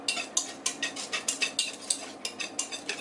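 A whisk stirs a creamy sauce in a pan, making a steady run of quick, close metallic scrapes and taps in an even rhythm, with no talking.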